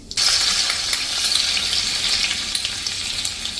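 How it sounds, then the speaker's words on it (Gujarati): Finely chopped garlic drops into hot oil already sizzling with mustard seeds and asafoetida for an onion curry, giving a loud, steady frying sizzle with faint stirring clinks. "હવે જે આપણે લસણ સમાર્યું છે ને ઝીણું એ નાખી દેશું"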